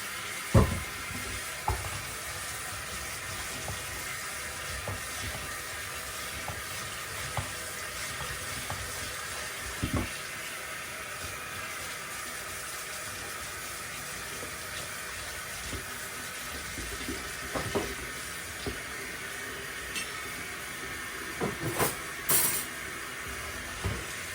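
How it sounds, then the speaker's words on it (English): A pan being washed off under a running kitchen tap, a steady broadband rush of water with occasional clinks and knocks of the pan against the sink, continuous and fairly quiet. "Wash this pan off."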